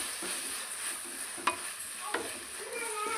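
Tomato, onion and turmeric sautéing in a pan, a soft continuous sizzle broken by two sharp scrapes of a spoon against the pan.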